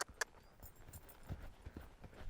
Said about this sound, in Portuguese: Então, vou motivar meu cavalo para ir para o trote.